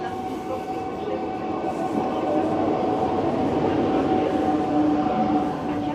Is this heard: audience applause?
no